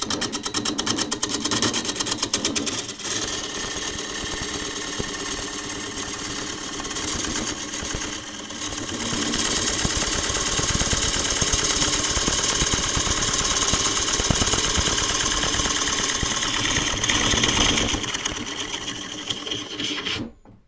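A wooden bowl spinning on a lathe while a gouge makes a pull cut to shape its profile: a continuous dense whirring and shaving hiss, steady and close for the whole stretch, easing off only at the end.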